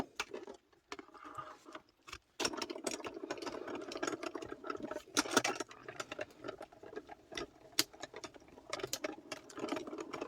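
A Diamond Press die-cutting machine runs with a steady mechanical whir and irregular ticking and clicking, at moderate level with no talk.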